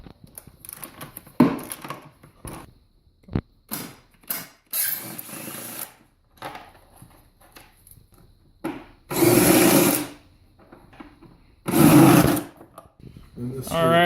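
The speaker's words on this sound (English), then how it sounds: "taking off the front clip, we got 4 half-inch bolts all around" Bolts being loosened on the front clip of a Polaris ATV, probably with a power tool: two long buzzing whirs stand out among clanks and handling noises, with someone talking in between.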